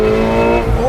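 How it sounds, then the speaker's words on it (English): A 2020 McLaren 720S Spider's loud exhaust roars close up from inside the car with the window down, a strong sustained engine drone that rises in pitch at the end. "that exhaust is really loud, as you can hear"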